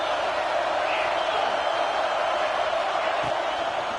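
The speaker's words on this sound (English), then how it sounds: "Third down and the crowd really getting into it." Football stadium crowd during a college quarterfinal game against Clemson, a steady broad roar filling the whole stretch, loud and continuous with no clear breaks, building on third down.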